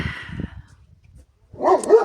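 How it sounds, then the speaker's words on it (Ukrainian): A farm dog in a village yard barks close by, a short burst at the start, then a pause with faint rumble before a louder yelping bark. "Лайма гавкає, гавкає, дає побалакати нам"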